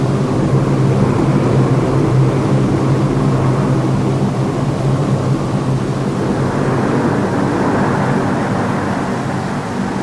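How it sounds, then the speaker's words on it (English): An airplane over Antarctica produces a steady, loud, broad roar with a low rumbling drone that holds without pause throughout. "A plane,"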